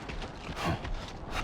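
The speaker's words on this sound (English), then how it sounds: "Well, I guess it does sound like a tired horse or something," A zero-stamina character in the game Death Stranding 2 gives off a tired, horse-like clopping and snorting, a steady close rhythm of soft thuds with a swell midway, with no talking.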